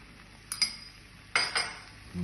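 A utensil clinks and scrapes against a pan in a few sharp metallic taps while king prawn fried rice is mixed with soy sauce and mushroom seasoning, quiet in between.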